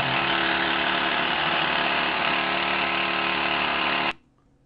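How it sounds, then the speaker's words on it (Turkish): A loud, steady mechanical hammering drone of a Boomer 282 hydraulic rock drill running continuously at 200 bar impact pressure, then cutting off abruptly near the end. "artık makinemiz 200 bar darbe basıncıyla delmeye"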